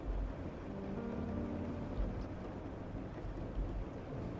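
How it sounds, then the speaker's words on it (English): Rain sounds played on a stream, a steady low rumbling wash of rainfall with faint thunder-like swells, continuous and even throughout with no voices. "You guys can still hear the rain sounds, right?"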